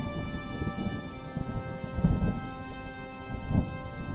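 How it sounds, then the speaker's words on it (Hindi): Steady heavy rain fills the scene, with low rumbles of thunder swelling twice in the middle and again near the end, no voices over it. "तेज बारिश और गरजती बिजली के बीच तीनों शैतानी हंसी हंसते हुए वहां से चले गए।"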